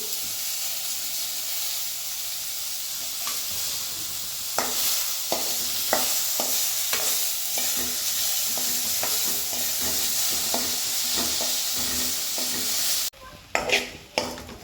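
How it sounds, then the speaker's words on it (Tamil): Tomatoes sautéing in a pan for chutney give a steady close sizzle with repeated spoon scrapes and taps against the pan, ending in a brief hush and a few sharper knocks. "தக்காளி வதங்கிட்டே இருக்குது."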